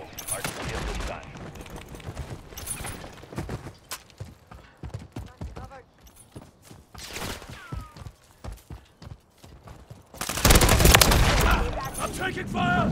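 Gunfire in Modern Warfare 3, with scattered rapid shots and clattering bursts that build to a loud, dense volley near the end, and voices talking in between.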